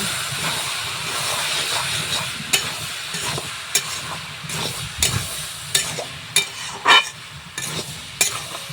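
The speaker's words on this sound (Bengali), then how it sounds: "এক চামচ চিনি দিয়ে দেবো একটু নেড়ে দেবো" A spoon stirs sugar into chicken ghugni in a pan, with steady scraping strokes and sharp clinks over a low background hiss. No one speaks.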